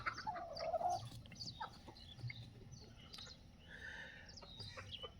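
Desi chickens cluck and call inside a low-cost poultry shed, several birds producing intermittent clucks and squawks at moderate distance, with a louder call near the start over a low background hum.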